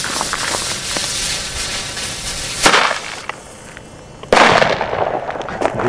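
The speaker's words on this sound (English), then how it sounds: "Gunshot!" Gunshot going off near a train yard, sharp loud bangs: several cracks in quick succession, then two heavier blasts that ring out and decay.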